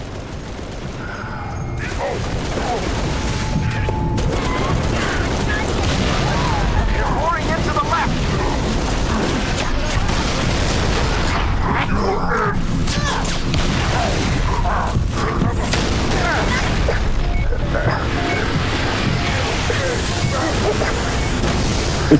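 Rocket explosions and gunfire against brutes in the video game Halo, a sustained loud barrage of booms and bursts filling the whole stretch with dense, continuous battle noise.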